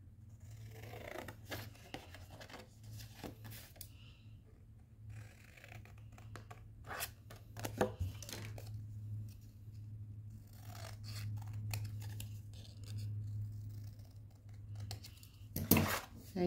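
Scissors cutting through craft card, a run of separate snips and short crunchy cuts, close and fairly quiet, with soft rustling of the card between them and a faint low hum underneath.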